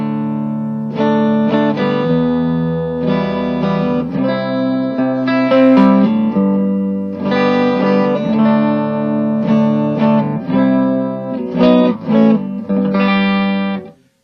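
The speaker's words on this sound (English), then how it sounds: "I'll give you a little idea of what this sounds like dry" Les Paul Tribute on its neck pickup played through a Bugera G20 tube amp head on the dry clean channel, ringing chords and single notes with no reverb, steady and close with no talking.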